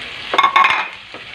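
Corn kernels being stirred into a sautéed, pressed tomato mixture in a pan: a short burst of scraping and sizzle, close and moderately loud, fading to a soft simmer.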